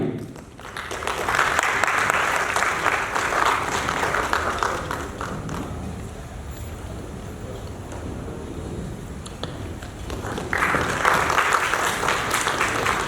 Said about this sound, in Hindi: एक बार करताल ध्वनि से तालियां बजाई जाए।